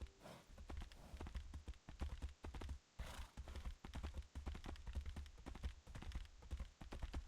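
Horse hooves clip-clop in a steady, close walking rhythm while riding in the fantasy game Tainted Grail: Fall of Avalon, with a brief pause near the middle and no talk.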